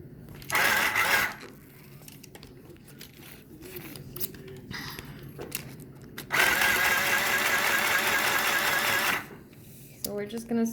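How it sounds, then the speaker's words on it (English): A sewing machine stitching around a skirt hem made from an old dress runs in two loud, steady whirring bursts, one short and one several seconds long, with quieter handling sounds between them. "So we're just gonna sew all the way around."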